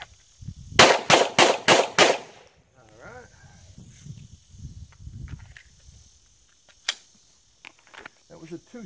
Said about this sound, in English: Draw 5 shots on the note card